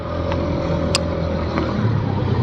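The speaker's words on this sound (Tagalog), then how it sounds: "Traffic talaga to." Road traffic in Barangay Piela, Dasmariñas, Cavite, a dense rumble of nearby engines with large tires rolling past and a couple of brief brake or horn squeaks, loud and continuous.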